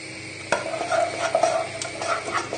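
Milk being gently stirred into a white sauce for lasagne makes soft rhythmic scraping and swishing of a spoon in the pan, starting with a light knock and continuing in close, quiet strokes.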